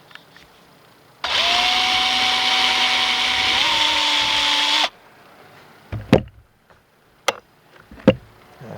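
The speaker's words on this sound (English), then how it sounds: "we'll put it on the drill and get ready to drill that hole" A cordless electric drill on a bench whirs steadily at full speed for several seconds, its pitch stepping down slightly as it bites into the hole, then stops abruptly, followed by a few sharp knocks and taps.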